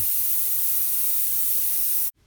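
An airbrush spraying paint to blend skin tones gives a steady, loud, close hiss of air and paint that runs unbroken for about two seconds, then cuts off abruptly.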